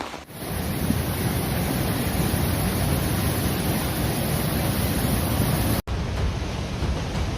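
Heavy surf pounds Bondi Beach in wild wind, a dense, steady roar of crashing waves buffeted by gusts blowing hard across the microphone, with one brief dropout near the end.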